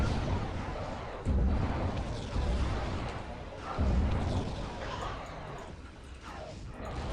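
Gunfire from a fight with an enemy in the Star Wars Galaxies: Legends online game: a few heavy, booming shots land a second or two apart over a constant dense background rumble.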